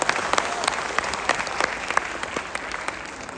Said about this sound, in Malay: kita bagi satu tepukan gemuruh bagi kita punya Pak Teguh